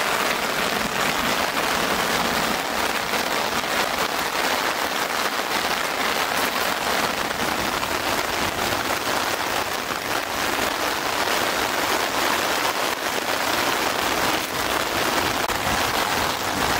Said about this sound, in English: Look, there's hail now.